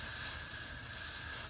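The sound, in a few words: Got To Be Goo hair spray being sprayed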